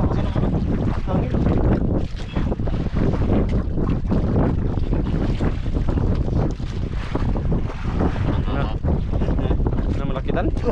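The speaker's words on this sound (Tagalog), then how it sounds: "Ang lakas na kasi ng hangin." Strong wind buffets a fishing boat at sea, roaring steadily into the microphone with splashing water and boat noise throughout, while voices talk over it.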